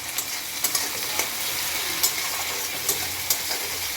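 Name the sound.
onions frying in a pan before adding fish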